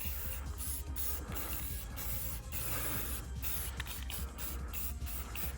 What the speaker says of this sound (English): We'll do one more spritz with the indigo streamer